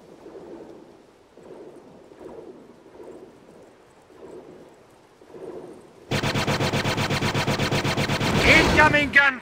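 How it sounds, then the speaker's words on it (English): Blaster gunfire in a Star Wars Frontlines mod battle on Naboo, starting abruptly as rapid, dense, loud bursts of automatic fire after a stretch of quieter game voices and ambience. "Incoming gunfire!"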